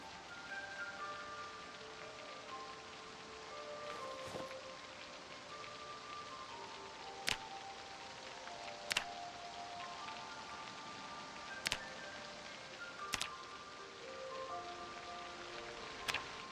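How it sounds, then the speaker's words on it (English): Rain falls outdoors in a wilderness survival game, a steady soft patter running throughout, with faint tonal music in the background and a few sharp clicks standing out. "It's raining."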